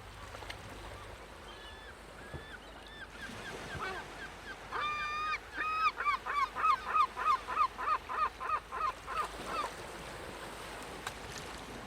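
A flock of Eurasian oystercatchers gives loud, piping calls in a fast run of repeated notes, heard over steady wind and surf along a rocky shore.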